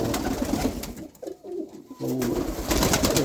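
Pigeons coo close by in soft rhythmic bursts, with a quieter pause in the middle before the cooing resumes, in a loft setting without talk.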